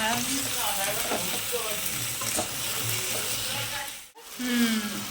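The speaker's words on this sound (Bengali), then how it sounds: "এবার আবার সব দিয়ে কষিয়ে নেবো" Potato curry sautés in a hot pan with a steady oily sizzle and stirring scrapes. The sound cuts out briefly near the end, then resumes, while a voice talks over it.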